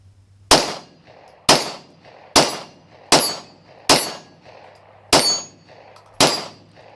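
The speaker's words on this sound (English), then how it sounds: "now we'll begin just firing to test reliability" A Glock 19 pistol fitted with a Saf-T-Lok safety fires seven loud, sharp shots at a steady pace, roughly one every second, with no talking in between.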